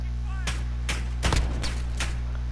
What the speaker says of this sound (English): Hit him once with my shotgun